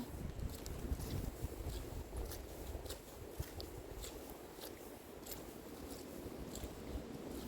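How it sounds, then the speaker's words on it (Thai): Wind gusts during mushroom foraging outdoors, a low, rumbling buffeting roar against the microphone that stays fairly quiet and continuous, with no talking. "เสียงลม"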